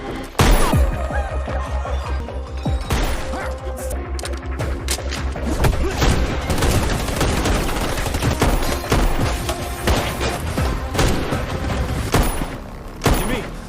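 Gunfire fills a film hospital massacre scene as a man fires a seized rifle: dense bursts of shots, booms and crashes sound loud and close throughout, with faint voices mixed in.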